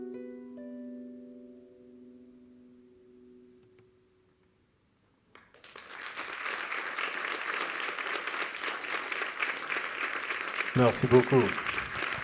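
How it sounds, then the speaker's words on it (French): A large audience bursts into sustained, dense applause after a French poetry reading, loud and steady for several seconds, following a brief spoken thank-you and a quiet pause. "Je pense qu'on peut applaudir Dora plus fort que ça"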